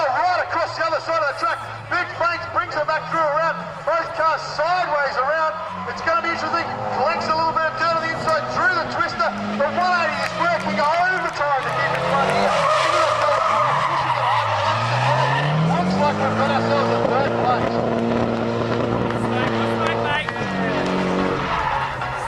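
Drift cars at a Drift Nats competition round scream through a battle with roaring, rising and falling engine revs and long tire squeals, loud and continuous, with a voice talking over the action.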